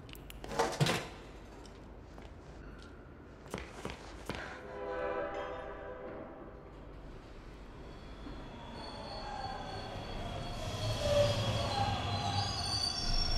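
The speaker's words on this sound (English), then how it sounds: "Just wait for the train again." A train arrives in the video game Bendy and the Dark Revival: sharp clanks give way to a long metallic wheel squeal and a rising rumble as it pulls in, with no voices.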